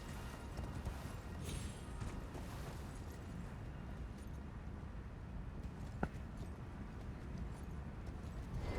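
Steady clip-clop of a horse's hooves at a gallop in the video game Elden Ring, under a dense, noisy rumble, with one sharp pop partway through.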